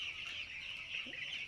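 Broiler chickens on a farm cluck and chatter continuously at midday in hot weather while being given water, a steady, fairly close chorus of fowl with no talking.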